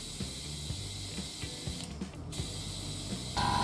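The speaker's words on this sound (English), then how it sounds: "tighten it, just hand tighten it, just for now" A nut being hand-tightened onto the tube valve stem of a Yamaha XV125 motorcycle wheel during a tire change, a series of close, soft rhythmic clicks and scrapes over a steady background hum.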